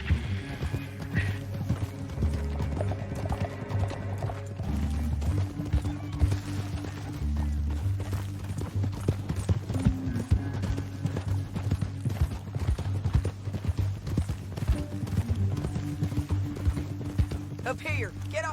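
Horses gallop in the Red Dead Redemption 2 video game, a steady dense clatter of hooves lasting throughout, with an occasional whinny over a low rumbling game soundscape.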